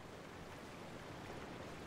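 Steady rushing water from a small, sludgy waterfall in the Resident Evil 3 Remake game, a continuous broadband wash heard alone at close range.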